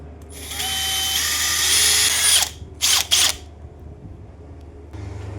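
A power drill whirs steadily for about two seconds while drilling pilot holes in wood for a chair, then stops, followed by two quick short bursts, close by in a quiet room.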